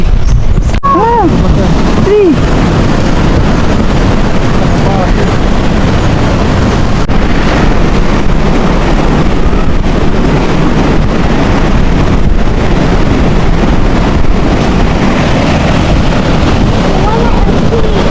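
Strong wind at Omawas Beach buffets the microphone continuously in a loud, rumbling roar, with a brief voice near the start.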